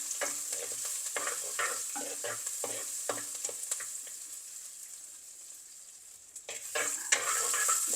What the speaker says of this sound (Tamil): பூண்டு சின்ன வெங்காயம் எல்லாம் நல்லா பொரியட்டும்